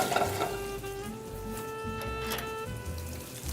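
Hot Italian sausage fries in olive oil in a pan on the stove, a close crackling sizzle with scattered pops and some scraping, steady and moderate with no voices.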